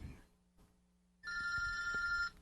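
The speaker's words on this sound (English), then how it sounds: "I thought you were going to turn off your phone, Hotshot." A telephone rings loudly in short electronic bursts after a quieter opening with faint background sounds, the ring steady and close, then cutting off abruptly.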